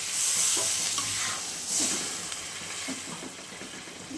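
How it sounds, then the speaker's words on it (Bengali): Tangra fish curry stirred in a pan as a little water is added, with a loud hissing sizzle at first that eases while a few soft spoon scrapes continue nearby. "এখন মা হালকা একটু জল দিয়ে দিবে"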